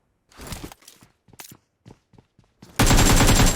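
UMP submachine gun fire in the mobile game PUBG Mobile, with several short bursts and shots spaced apart, then a sustained loud burst of rapid fire at the end.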